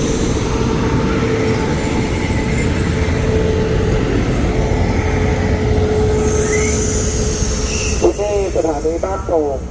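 A special express train rumbles steadily into Ban Pong station in Thailand, with a sharp wheel squeal and screeching rising near the end as it slows, no talking.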